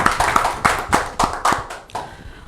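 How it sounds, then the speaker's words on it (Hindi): Several sharp claps ring out in an uneven rhythm, a brief burst of applause from a few people, tapering off after about two seconds. "एक बार जोरदार तालियां हो जाए"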